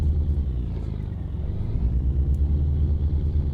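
A Volvo NH12 truck in American Truck Simulator drives along with a steady, deep low engine rumble that holds even and close throughout, with no talk.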